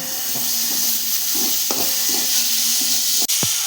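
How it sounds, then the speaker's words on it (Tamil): A utensil stirs chopped tomatoes into onions frying in a pan for netholi thoran, a steady sizzle under repeated scraping strokes, with a sharp clack near the end. "வெங்காயம் வதங்கினதும் கட் பண்ணி வச்ச தக்காளியை போட்டு கிளறணும்"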